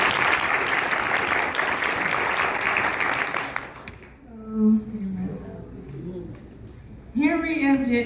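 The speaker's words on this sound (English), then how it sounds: "Let's give them a hand clap." Audience applause for two youth speakers at a Black History Month program, a dense wash of clapping lasting about four seconds before cutting off, followed by a speaking voice.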